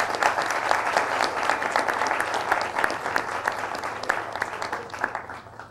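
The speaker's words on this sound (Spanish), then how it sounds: "Un aplauso para nuestro decano." Audience applauding their dean at a university faculty event, steady dense clapping from a seated crowd that holds for several seconds before tapering toward the end.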